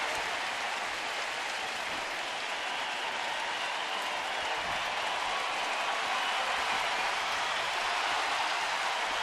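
A crowd of more than 31,000 at a baseball stadium cheers and applauds in the ninth inning, a dense, steady roar of clapping and shouting that stays loud and unbroken throughout.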